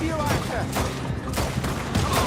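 Several gunshots ring out in a Red Dead Redemption shootout, with sharp bursts at irregular intervals under a busy, noisy game soundtrack.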